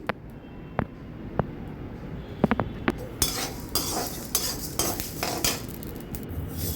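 Fenugreek and coriander seeds roasted in a hot kadhai, sharp spoon clinks against metal at first, then a dense rattling scrape as the dry seeds are stirred and tossed, close and steady.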